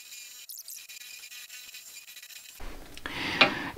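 A wood gouge cutting the outside of a turned bowl on a lathe: a faint raspy scraping at first, then a louder, coarser rubbing cut in the second half, with no talk.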